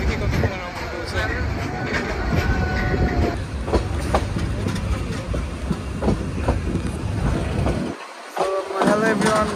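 A passenger train from Kamalapur runs toward Rangpur during Eid travel, heard from inside the carriage, with a continuous rumble and rhythmic clatter of wheels on track. People talk throughout, and the noise drops briefly near the end.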